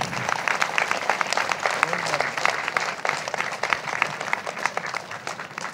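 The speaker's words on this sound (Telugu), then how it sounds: "పిరమిడ్ సేవాదళ్ ఆర్మీకి ఒకసారి అందరికీ చప్పట్లు కొడదాం." Sustained audience applause for the Pyramid Seva Dal volunteers at a spiritual gathering, a dense steady wash of many hands clapping that holds evenly for several seconds without a break.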